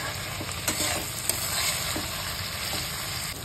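Homemade masala roasts in a dry pan, stirred constantly. A continuous close crackle runs with light scraping strokes and a couple of sharp clicks, and nobody speaks.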